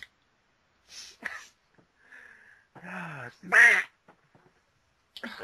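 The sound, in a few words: voice imitating a duck quacking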